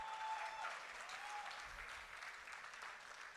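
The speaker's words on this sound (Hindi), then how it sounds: "अब बजा लीजिए तालियां।" Steady audience applause at a live stand-up poetry show, broad dense clapping filling the room from start to finish without voices on top.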